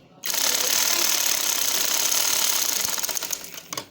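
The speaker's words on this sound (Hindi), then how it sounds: "इस पे ही हमने सिलाई लगानी है" A sewing machine stitches dori piping along the edge of fabric, a loud continuous mechanical whir with fine rapid needle ticks that runs steadily for several seconds before slowing and stopping near the end.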